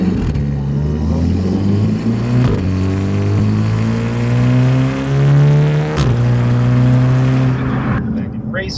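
A Golf R with a Stage 2 downpipe exhaust in race mode and manual gearshift, revving up through rising, roaring engine notes with gear changes and a sharp crack, close and loud under talk.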